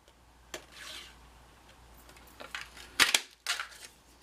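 A Stampin' Up Fox Builder Punch cuts through cardstock in a few sharp snaps and clicks, separated by softer rubbing and handling of paper, close and fairly quiet.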